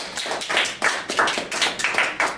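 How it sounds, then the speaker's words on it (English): Rhythmic clapping from a small audience at an anthropology alumni lecture, a steady beat of a few hands close by with no voices. "let's have a round of applause"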